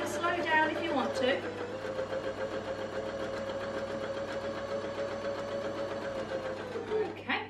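Domestic sewing machine stitching through quilting fabric, a steady whirring motor with rapid needle clatter running several seconds, close and fairly loud, with a brief start and stop at the edges.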